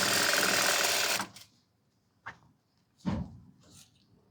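A sewing machine stitches a twelve-metre flared lehenga in one fast, continuous run lasting about a second, followed by a few quiet clicks and handling knocks.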